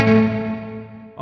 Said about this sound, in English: there is something strange on the reverb